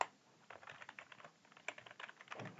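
Typing on a computer keyboard while writing C# code, a quiet run of quick uneven key clicks up close with short pauses between bursts.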